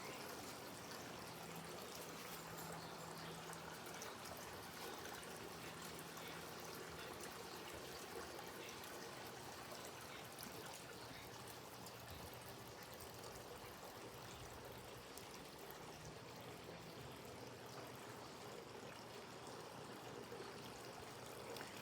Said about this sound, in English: And all the sounds of the water fountains.